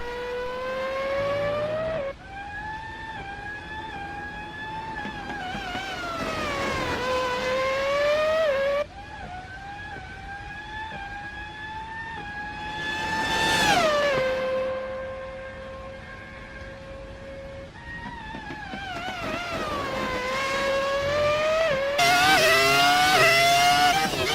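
Michael Schumacher's Ferrari F2004 V10 Formula 1 car screaming alone at high revs, rising and falling through gear changes and passes, loud and close with a sharp surge mid-way.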